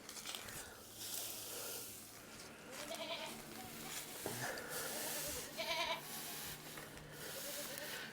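Goats bleating around a hay feeder on a farm, a few short nasal calls rising over a steady bed of rustling and shuffling, fairly close.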